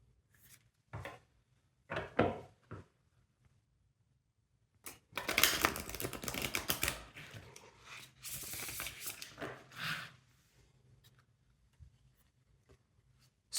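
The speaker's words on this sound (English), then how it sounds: "Just going to reshuffle." Tarot cards being reshuffled by hand in bursts: a few short riffles, then a longer run of flapping and shuffling, then more riffling, close and fairly quiet with pauses between.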